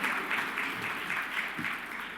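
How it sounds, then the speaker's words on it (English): Brief, moderate applause from an audience at an airport chamber annual meeting, a soft even patter of clapping lasting a couple of seconds. "You can clap for that."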